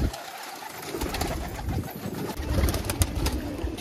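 Green dobaaz pigeons coo softly and repeatedly at close range, giving low, throaty calls over a light rustling background with no speech.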